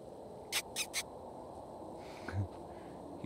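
A grey owl makes three quick rough croaking bursts, followed by a softer low call, all faint against quiet outdoor background noise.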